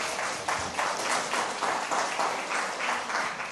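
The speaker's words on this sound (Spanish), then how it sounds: "Denle un aplauso a Dios" A church congregation applauds together in a steady, dense burst of clapping that carries evenly for several seconds, fairly loud and without voices on top.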